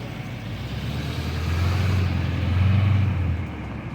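A garbage company truck rumbles nearby with a deep, steady engine drone that swells louder as it approaches, then eases slightly before rising again, heard alone without talk.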